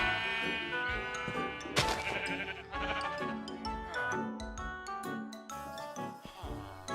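Sheep in Minecraft bleat repeatedly in quick succession, clear and close, with a light jingling tone mixed in and no talking.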